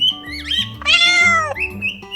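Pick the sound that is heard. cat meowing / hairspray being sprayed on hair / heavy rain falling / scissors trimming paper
cat meowing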